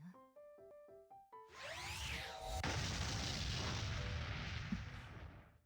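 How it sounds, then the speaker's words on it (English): After a short game-style chime melody, a deep explosion booms in the anime video game KonoSuba: Fantastic Days. Its rumble and crackle carry on for several seconds, loud and heavy under the game score. "It sounded like an explosion."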